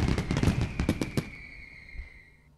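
A quick string of crackling video game firework pops, dense at first, then thinning out as a high whistling tone lingers and fades.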